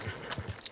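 Horse hooves in Red Dead Redemption 2, a quick run of several muffled clip-clop hoof strikes at moderate volume over a busy game backdrop.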